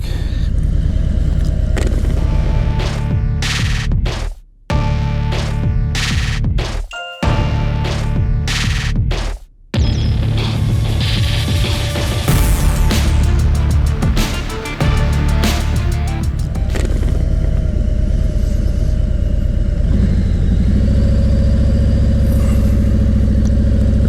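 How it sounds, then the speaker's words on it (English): Memphis street traffic, a continuous loud rumble of passing engines with a few brief gaps, steady and close throughout. "Memphis traffic."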